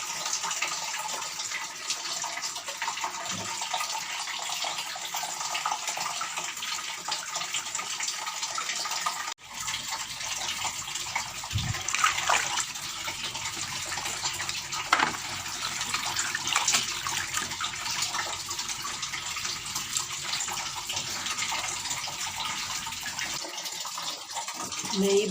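Water runs steadily from a tap while laundry and a bedsheet soak at home, a continuous close rush with a few brief knocks and splashes.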